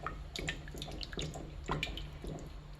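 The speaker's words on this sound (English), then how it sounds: "Give that a good stir." A pot of curry with freshly added coconut milk is stirred, giving soft, wet, liquid swishes in a steady rhythm of strokes, quiet and close with no talking.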